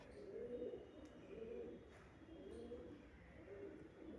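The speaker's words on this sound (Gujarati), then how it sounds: "આમાં સફેદ કબૂતરા બધાય." Soft, rhythmic cooing of white pigeons housed at an animal helpline shelter in Bhavnagar, repeating about every second in steady low calls with faint background noise.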